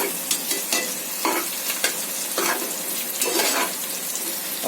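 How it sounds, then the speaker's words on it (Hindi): Onions frying in a pan for beef biryani, a steady broadband sizzle with repeated scraping stirs of a spoon against the pot, close and fairly loud, no voices. "प्याज ब्राउन हो रहा है।"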